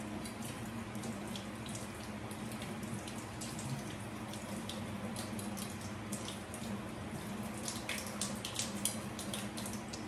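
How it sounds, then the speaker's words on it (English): Steady running water from a kitchen tap as an onion is rinsed underneath, a continuous close wash with small splashes and drips throughout, no talking. "Rinse this off."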